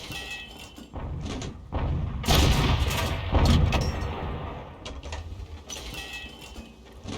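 Heavy booming gunfire from an 85mm tank cannon in a tank combat video game, with loud blasts around the middle over a constant rumbling battle background and sharper reports near the end.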